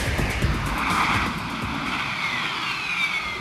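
A Harrier jump jet's single engine roars with a loud, steady whine and broad rushing thrust, its pitch shifting slowly as it runs near and continuously without speech.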